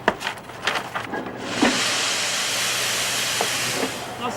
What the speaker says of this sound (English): I sort of like the shushy noise it makes when the steam comes out.